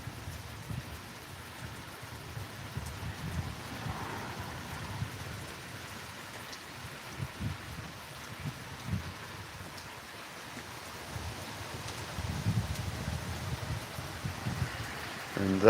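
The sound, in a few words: rain falling outdoors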